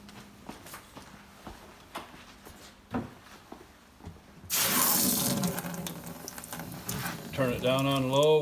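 Water pours gently from a hose turned down low onto freshly transplanted tomato plants, a soft steady splashing that starts partway through after quieter handling sounds, while a voice speaks briefly near the end.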